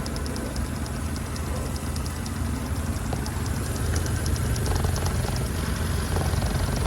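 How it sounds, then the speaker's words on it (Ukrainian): A Skoda Octavia Tour engine idles under an open hood, giving a steady, even, close-up drone with a hissy top and low rumble that runs unbroken, with no talk. "Двигун працює рівненько."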